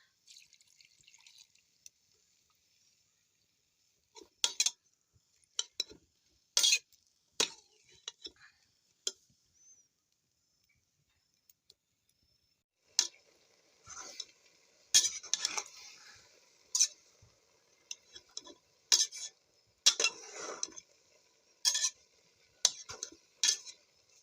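Dried apricots stirred in a pot of water with a utensil, giving scattered clinks and scrapes against the pot, sparse at first and then in quicker clustered bursts, fairly close with no talking.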